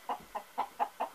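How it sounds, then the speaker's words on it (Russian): A rooster clucks five times in a quick, even rhythm, fairly close and moderately loud, with nothing else audible. "Вот петух."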